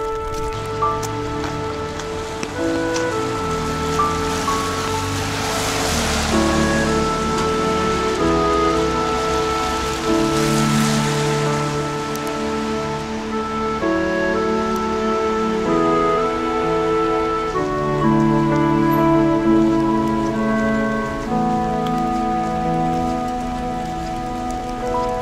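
Continuous rain falls on a hard surface, an even hiss and patter layered with humming tones that shift now and then; nobody speaks.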